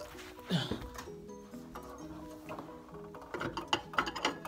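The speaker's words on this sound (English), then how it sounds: "just go ahead and hit the jack" A jack is worked under a 2016-2017 Nissan Maxima during an air suspension install, giving repeated mechanical ratcheting clicks and creaks in a garage, with some irregular clunks and shop noise throughout.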